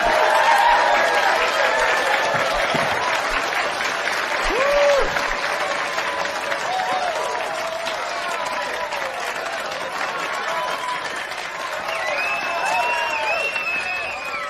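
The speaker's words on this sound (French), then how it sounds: "On fait un tonnerre d'applaudissements pour la dame en rouge." Audience applause with some cheering, a full, continuous burst of clapping that holds for many seconds and slowly eases, with scattered voices and whoops over it.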